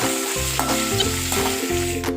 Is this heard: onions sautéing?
yes